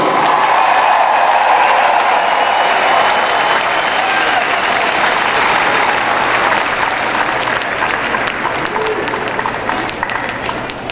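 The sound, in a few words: audience applause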